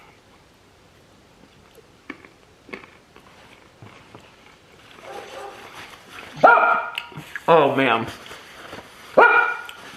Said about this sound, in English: My neighbor dog's barking.